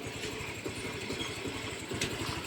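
A Yamaha Mio i 125 motorcycle with a remapped ECU idles with a steady, rumbling, rapidly pulsing engine beat, heard up close and alone for a couple of seconds.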